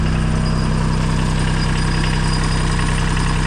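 Diesel engine idling steadily just after a cold start in a workshop, a close, even mechanical rumble with a low knocking pulse running throughout, no voices.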